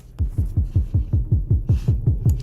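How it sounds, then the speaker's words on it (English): Kick drum drenched in reverb in a music production, thumping in a steady loop of about a dozen deep booming hits with long decaying tails, loud and alone. "This like reverb kick that I just..."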